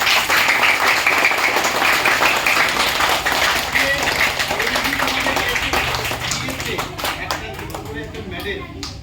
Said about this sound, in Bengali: আর স্যারের জন্য আমি জোরসে হাততালি